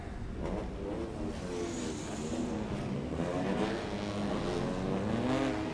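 Formula-style race cars roll around a Thai circuit on a formation lap, a steady blend of engine drone with rising and falling pitches from several cars at moderate distance, no voices.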